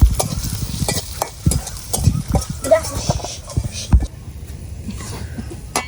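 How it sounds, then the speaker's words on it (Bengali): Fish frying in a pan at a rural outdoor picnic cookout, with crackling sizzle and repeated scraping and stirring knocks of a utensil, close and fairly loud, with people talking faintly nearby. "মাছ ভাজা একটা খাইয়া দিই। শিবনদা।"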